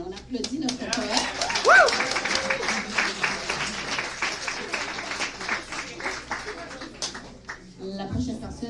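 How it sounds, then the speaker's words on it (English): Crowd applause and cheering for a poet at a poetry slam, a dense spell of clapping that swells and then thins out, with a voice breaking through near the end. "On applaudit notre poète."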